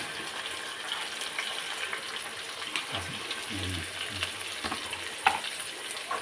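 Onions and tomatoes fry in a pan for a dry crab curry, giving a steady close sizzle with a few soft stirring clatters partway through.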